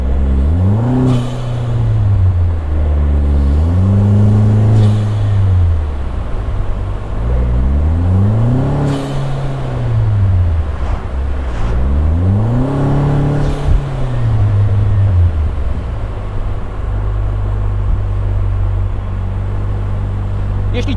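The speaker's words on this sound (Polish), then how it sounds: "bardzo fajnie dopracowany, oldschoolowo brzmiący wydech i blow-off z turbo" A Vanderhall Venice's engine revs up and down repeatedly with a deep, rumbling, old-school exhaust note, loud and close, with faint whooshing turbo blow-off sounds between revs.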